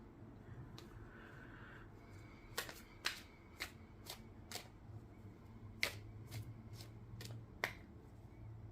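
Tarot cards are shuffled close up, giving a series of sharp riffle snaps, about a dozen crisp bursts at irregular intervals over quiet background hiss.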